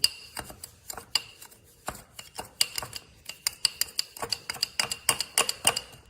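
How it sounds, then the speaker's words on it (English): A spoon stirs sugar, coffee and tequila together in a glass, giving a quick, irregular run of bright, close clinks and taps against the glass with no talking. "And then you're gonna stir that up as best you can, okay?"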